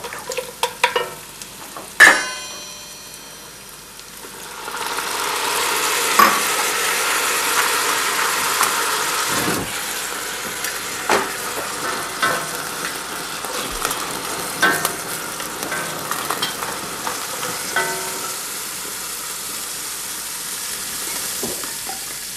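Scallops and small crabs heating in a hot pan before flambéing, a steady broad sizzle that rises after a few seconds and then holds, with scattered clinks and stirring knocks, close and fairly loud, no talking.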